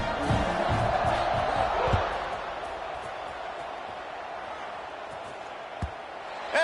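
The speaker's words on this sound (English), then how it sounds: "this crowd is buzzing after that last score" A college football stadium crowd, Tigers against SMU, buzzing after a score and extra point, a broad roaring murmur that swells early, then settles into a steady distant hum with a brief sharp knock near the end.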